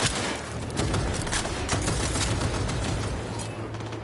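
Sustained gunfire in the video game Cyberpunk 2077, a loud, continuous barrage of rapid shots with booming low end, running nonstop without any voices.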